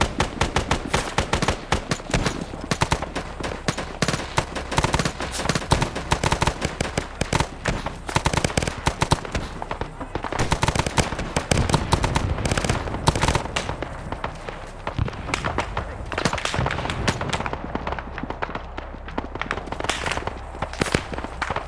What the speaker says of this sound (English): They're taking shots.